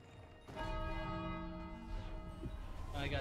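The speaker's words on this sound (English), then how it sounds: "I got to ring a bell." Video game bell struck once and left ringing, a rich sustained tone with layered overtones that lingers for a few seconds, fairly quiet.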